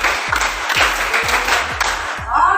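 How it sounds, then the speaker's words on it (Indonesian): A classroom group claps in unison, with five sharp, evenly spaced claps in a steady counted rhythm, followed by a brief burst of voices. "Tepuk 1, tepuk 2, tepuk 3, tepuk 4, tepuk 5, 2 kali tepuk 5."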